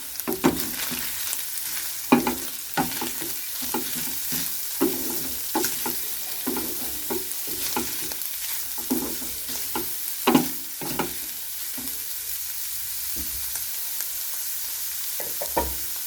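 Onions fry in a pan as cooking for pizza cutlets begins: a steady, close sizzle runs throughout, with repeated sharper scraping and stirring knocks at irregular intervals and no voices.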